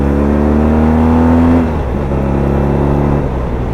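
BMW R1200GS K25 motorcycle engine pulling hard on a ride through scenic country, a loud steady drone that climbs in pitch for about a second and a half, then eases off into a lower, rougher hum.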